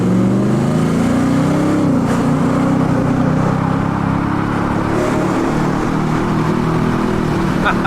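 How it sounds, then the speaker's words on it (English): A Ford Raptor R pickup's engine drones steadily while driving, a loud, continuous low rumble that swells slightly as it pulls along, with no voices over it. "driving a Raptor now that sounds like this"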